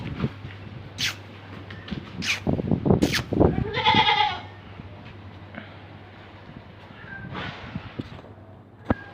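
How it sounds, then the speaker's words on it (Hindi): A two-toothed male goat bleats a few times close by at a livestock market, with short rustles and knocks between calls and a steady low hum underneath. "ये 2 दांत बकरा है।"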